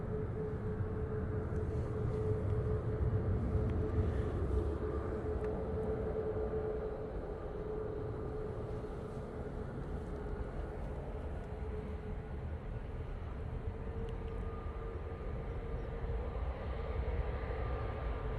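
A Ryanair jet takes off from a runway intersection, bound for Alicante. A steady, distant engine roar holds throughout, slightly louder at first, with a faint whine above the low rumble.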